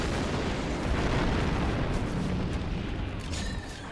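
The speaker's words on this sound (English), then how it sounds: "The charge is set and ready to detonate." An explosive charge detonates in the Star Wars Republic Commando video game, a loud, dense rumbling blast that fills the clip and slowly tapers off.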